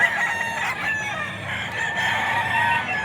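Roosters crow at a Bocaue pet market amid a crowd of gamecocks, several overlapping cock-a-doodle-doo calls rising over a steady busy background, loud and close throughout.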